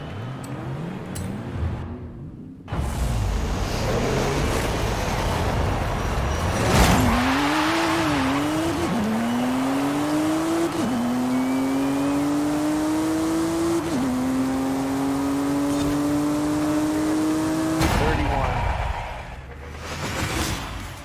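An all-wheel drive car on stock tires accelerates hard down a quarter mile, its loud engine note climbing and dropping back through several gear shifts over a steady roar, with no talking.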